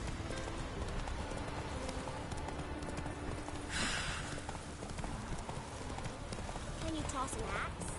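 Roach, the horse in The Witcher 3: Wild Hunt, gallops with a rapid, steady clip-clop of hooves over a layered game soundscape, with a brief whoosh midway and a faint whinny near the end.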